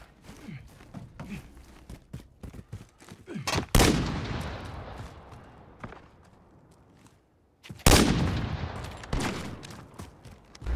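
Gunfire in the Call of Duty video game: scattered sharp shots and two heavy, loud bursts with ringing decay, separated by quieter stretches of footsteps and small clicks.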